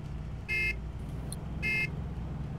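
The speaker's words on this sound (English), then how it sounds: "I hope you guys like honking." A vehicle horn in ArmA 3 honks twice in short, loud bursts about a second apart over a steady low engine rumble.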